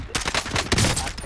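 Automatic weapon fire in Call of Duty: Modern Warfare Warzone, a rapid burst of loud, close gunshots in quick succession with a few heavier cracks near the end.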